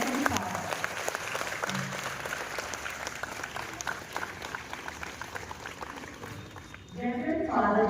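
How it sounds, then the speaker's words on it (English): Sustained applause from a school audience at an Independence Day celebration, welcoming a visiting priest; dense clapping fills the whole stretch, swelling again near the end, with a voice briefly over it. "Kindly give a thunderous applause to Reverend Father"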